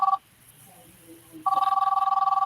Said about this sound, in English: Here comes the call. Here's the phone call.